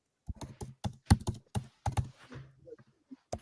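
Rapid clicks of typing on a computer keyboard, close and distinct in uneven bursts, with no talking over them.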